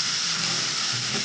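Onion, ginger and garlic paste fries in a pan with a steady, close hissing sizzle that stays even and uninterrupted, with no voices.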